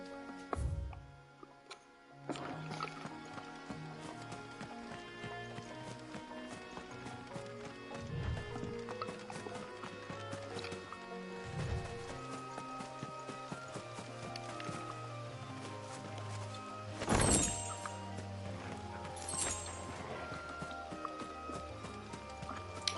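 A horse's hooves clip-clop at a steady walking pace in Final Fantasy XVI, sitting quietly within game music and ambience, with a brief louder burst partway through.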